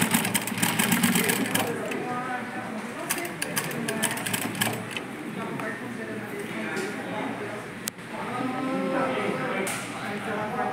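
A Sansei SA-D1541S triple-feed industrial sewing machine runs continuously, its steady mechanical whir loud and close, with a person speaking over it the whole time.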